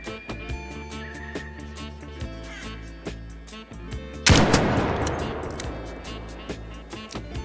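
Anvil hand cannon firing in Arc Raiders, one loud, sharp blast partway through that rings out and decays, set against a busy, repetitive game soundtrack with rhythmic clicks.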